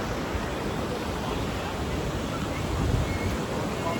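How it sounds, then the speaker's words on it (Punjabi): Floodwater rushes fast in Hoshiarpur during rain, a dense, continuous roar of broadband noise with a slight swell near the end, loud and steady. "ਕੀ ਜ਼ਿਆਦਾ ਬਹਾਵ ਤੇਜ਼ ਔਰ ਪਾਣੀ ਦੀ ਆਵਾਜ਼ ਦੇਖੋ"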